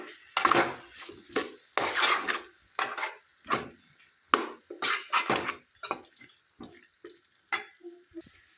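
A spoon scrapes and clatters against a pot in a steady series of stirring strokes as boiled potatoes are mixed into bagara rice, close up, with no talking.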